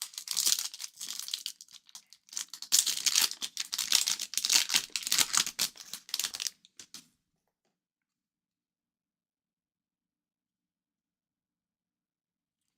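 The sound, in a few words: trading card pack wrapper being torn open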